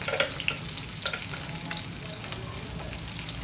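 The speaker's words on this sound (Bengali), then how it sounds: "এবার আমি এই কেটে রাখা টমেটোগুলো এর মধ্যে দিয়ে দেবো" Chopped tomatoes hitting hot oil in a pan with fried onions, ginger, garlic and potatoes, a dense close sizzle with scattered stirring clicks throughout, no voices.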